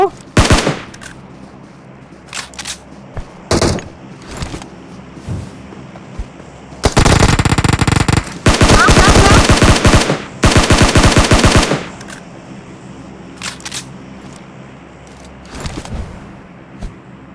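Gunfire in the PUBG Mobile video game as players shoot at a jeep: scattered single shots, then two long, loud bursts of rapid automatic fire, followed by more isolated cracks.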